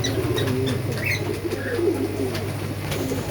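Madras pigeons crowd together at Salar, Murshidabad, cooing continuously and close, with bursts of chirps and occasional wing flaps mixed into the dense flock sound.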